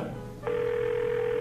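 A steady electronic telephone ring tone starts partway in and holds continuously, loud and close, with no one speaking over it.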